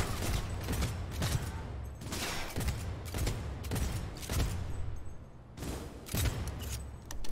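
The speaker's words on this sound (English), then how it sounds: "what the hell are they shooting me with?" Gunfire in Cyberpunk 2077 during a heist comes as repeated loud bursts spaced a second or so apart over a steady mechanical background, with no talk.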